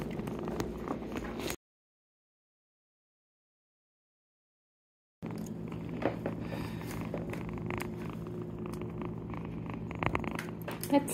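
A steady, close purr rumbles continuously, broken by a few seconds of silence before resuming.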